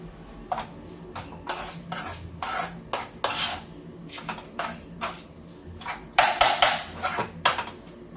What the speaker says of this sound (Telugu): మస్టర్డ్ కూడా తాలింపులో కలిపేస్తున్నానండి